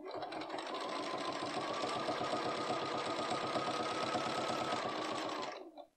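A Bernina B570 Quilters Edition sewing machine stitches through thick soft shell fabric in a fast, even mechanical rattle that runs steadily for about five seconds, then winds down and stops.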